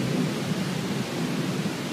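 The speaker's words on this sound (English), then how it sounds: "I mean, there's just like pouring rain." Heavy rain pours down at night in a dense, steady roar with a deep rumbling undertone, loud and unbroken throughout with no voices.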